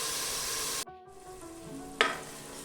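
Two medium tomatoes cut into wedges sizzle in a pan for chicken pulao, a steady soft hiss broken by a brief pause, then a single sharp clink of a utensil, with no talk.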